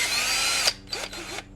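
A fast electric turner/un-turner, a drill/driver, spins at high speed in a loud continuous whine, cuts off abruptly, then gives two more short bursts, up close with no talking.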